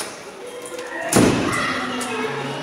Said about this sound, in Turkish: Kapat kapıyı.